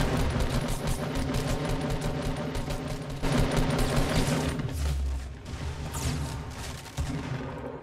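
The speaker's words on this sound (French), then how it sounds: "Un touché avec le lance grenade." Rapid grenade launcher blasts and gunfire in a Fortnite match at a LAN tournament, a dense, continuous barrage of shots and booms with deep thuds, loud throughout.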